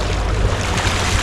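Small boat cruising at about 5.7 mph under a NewPort NT300 3HP electric outboard, a loud steady wash of wind and water with any motor whine buried in the rush.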